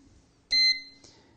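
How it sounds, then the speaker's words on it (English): A single bright electronic beep from a Sage Smart Grill Pro signalling its plate is at temperature, sharp and close, lasting a fraction of a second in a quiet room. "So there's the beep, our plate's at temperature."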